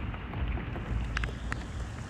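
Steady rain pours down during a storm with a dense, hissing wash and low rumble, close and continuous, with a few brighter drips standing out.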